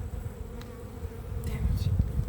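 Bees hum at Grandma's hive in a close, constant buzz, low and dense, with single insects flying past the microphone.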